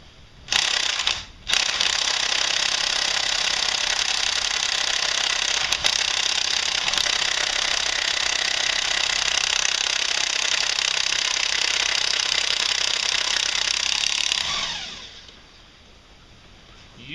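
An impact wrench works a tight, Loctite-secured fastener loose on a Can-Am Outlander ATV engine being split, giving one short burst followed by a long, steady, loud rattling hammer that runs about thirteen seconds and then cuts off, with no talk.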